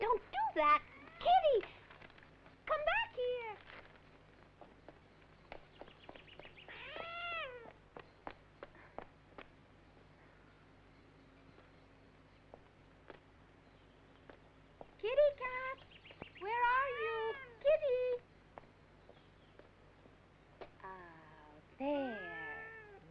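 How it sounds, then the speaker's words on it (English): A cat meows several times in drawn-out, wavering cries, grouped in bursts with quieter pauses between, fairly close and clear. "She's a very naughty cat"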